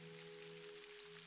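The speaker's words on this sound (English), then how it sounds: "I can change the sounds. Rain sound?" Rain ambience from the sound settings of the decorating game MakeRoom plays as a soft, even hiss of falling rain with a faint steady hum underneath, very quiet and brief, with no talking.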